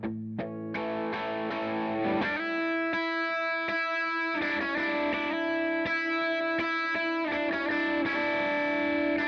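Dry lead electric guitar track with no reverb, distorted and clean-edged, playing a melodic line of repeated picked notes and sustained bends in a steady rhythm, close and upfront.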